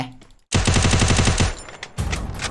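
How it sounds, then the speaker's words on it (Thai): Gunfire in the Free Fire video game: a loud, rapid automatic burst of about a dozen evenly spaced shots, then a brief lull and another loud shot with lingering noise. "มาเดี๋ยวผมจะยิงให้รู้ว่าตำแหน่งผมอยู่ตรงไหน"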